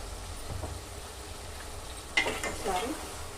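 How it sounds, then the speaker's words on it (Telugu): Tomatoes frying in a pan for mutton curry give a quiet, steady sizzle, broken midway by a few clinking spoon scrapes as they are stirred. "అది ఫ్రై చేద్దాం. బాగా ఫ్రై అవుతుంది."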